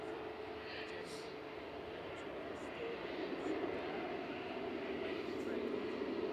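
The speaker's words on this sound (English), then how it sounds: "just coming over the threshold now is EasyJet 2120 from Lyon, GZWU touching down. It's an A320 Classic." An easyJet Airbus A320 jet touches down on landing at Manchester Airport, a steady engine roar at middle distance that grows slightly louder partway through, with someone talking over it.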